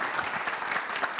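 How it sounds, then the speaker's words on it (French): Brief burst of audience applause at a television show, dense overlapping clapping at moderate distance. "On va faire beaucoup d'applaudissements"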